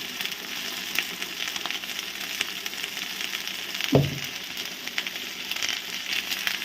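Spices and turmeric powder fry in a pan with a steady hissing sizzle and light crackle, plus one brief knock partway through.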